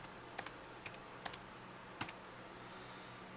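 Soft, sparse keystrokes on a computer keyboard while a password is entered during an Ubuntu Studio install, a handful of faint clicks spaced irregularly over a quiet background.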